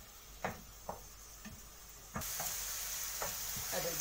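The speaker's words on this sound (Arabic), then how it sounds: "ادي البصل بتاعنا سخن مع السمنه والابل" Onions frying in ghee and oil in a pan, a steady close sizzle that swells louder partway through, with a few soft stirring clicks and scrapes alone without talk.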